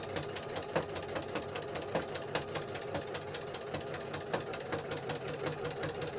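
A sewing machine stitches along the spine of a fabric bird journal cover, giving a fast, even mechanical chatter of rapid repeating pulses at a moderate, steady level.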